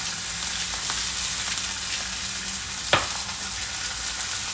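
Hot oil sizzles steadily in a frying pan, a dense, even hiss throughout with one sharp pop or spit near the end.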